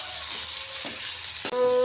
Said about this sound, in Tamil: நம்ம தூவி கிண்டி எடுத்துட்டு இறக்கிற வேண்டியதுதான்